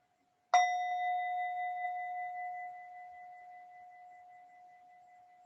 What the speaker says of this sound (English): And let that sound resonate with you.